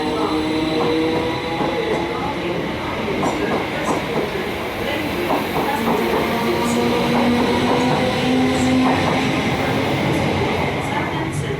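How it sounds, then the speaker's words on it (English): A C2C train pulls into platform 8 at Stratford with a continuous loud rumble, wheel clatter and a rising squeal as it slows, while a voice speaks in the background. "The next train to arrive at platform 8 will be the 11:50 C2C service to Shoeburyness via Barking"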